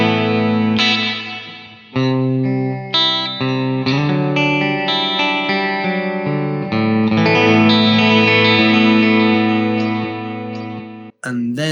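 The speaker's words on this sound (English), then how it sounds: "And then we have a hall reverb, where the tweak control gives us the pre-delay for the sound." An effects pedal, a Line 6 DL4 MkII, set to hall reverb processes sustained tonal notes with a spacious wash, the chords blooming and overlapping as the reverb tail lingers after each change.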